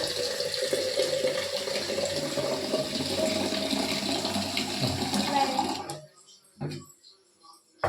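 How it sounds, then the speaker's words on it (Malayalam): Water poured from a jug as part of a home experiment, a steady rushing, splashing pour lasting several seconds before cutting off abruptly, followed by a few faint drips and small knocks. "ഇങ്ങനെ ജഗ്ഗിൽ നിന്ന് വെള്ളം ഒഴിക്കും"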